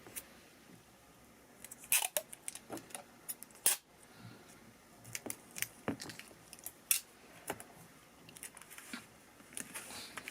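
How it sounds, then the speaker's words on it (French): Sticky tape is torn and pressed onto a table while a bracelet is being made, with sharp crackling rips and taps coming in irregular bursts, close and fairly quiet, without talk. "Et je vais mettre un deuxième morceau de scotch."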